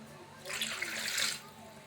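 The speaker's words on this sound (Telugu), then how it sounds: "నీళ్ళు పోసుకోవాలండి ఒక గ్లాస్ నీళ్ళు" Water poured from a glass while cleaning fish for a fish curry, a single steady splashing pour lasting about a second, fairly close and moderately loud against a quiet background.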